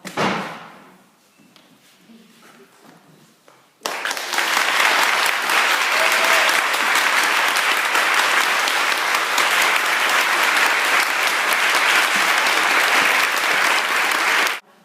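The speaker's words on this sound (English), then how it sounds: "When applause dies down, everyone mills around joyously." A graduation ceremony crowd bursts into loud, dense applause after a quieter stretch of fading sound, the clapping sustained and even for about eleven seconds before cutting off abruptly.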